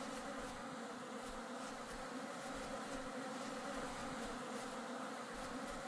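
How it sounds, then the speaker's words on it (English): Bees buzz in the video game Vintage Story, a dense, steady drone that holds at an even, fairly loud level throughout with no speech. "These bees are persistent."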